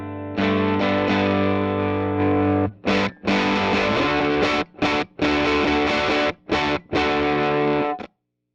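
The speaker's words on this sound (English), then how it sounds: "It's a little bit of a farty distortion, but it's okay." An electric guitar on its bridge pickup plays through a Matchless The Baby amp with fuzzy, slightly farty distortion: a sustained chord rings out, then a run of choppy, stop-start chords cut off by short silences, loud and alone.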